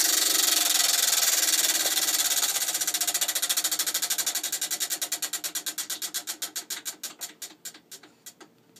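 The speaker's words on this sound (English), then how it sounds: "I'm going to spin the wheel for you." A prize wheel on a radio giveaway show spins with rapid, even clicking that gradually slows over about nine seconds into distinct, widely spaced ticks as it comes to rest.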